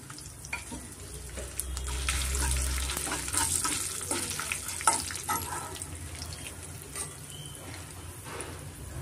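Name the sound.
asafoetida and chillies sizzling in hot oil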